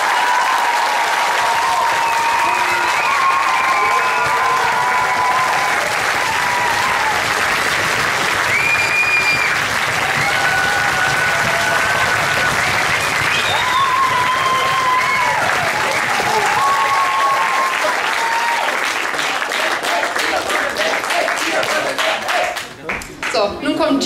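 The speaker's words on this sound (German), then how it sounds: "einen Applaus bitte" A concert audience applauds long and loudly, dense clapping that runs on for over twenty seconds while a voice speaks over it now and then.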